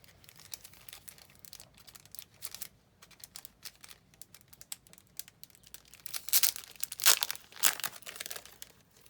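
Plastic craft packaging holding butterfly embellishments is crinkled and torn open, giving a run of dry rustling and crackling that swells into louder, sharper tearing bursts near the end.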